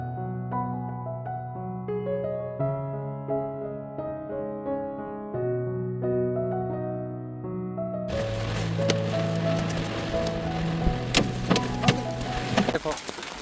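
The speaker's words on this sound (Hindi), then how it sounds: "देखो ओले पड़ने लग रहे हैं भाई साहब।" Heavy rain and hail hammer down at a campsite during a stormy Char Dham pilgrimage, a dense roaring downpour with sharp scattered hits that bursts in abruptly after several seconds of melodic background music.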